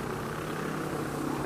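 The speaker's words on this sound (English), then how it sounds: "I think the helicopter's clearing off now" A steady, low droning rotor and engine hum from a helicopter in the shooter game Insurgency Sandstorm, constant and moderately distant with no talk over it.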